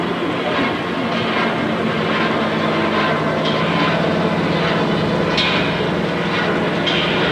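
Loud, steady helicopter engine roar with a broad rushing noise holding constant throughout, close by and without any voices, near Everest.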